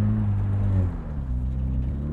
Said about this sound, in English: You can hear that turbocharged 4-cylinder engine, sounds great with that sensor exhaust silencer removed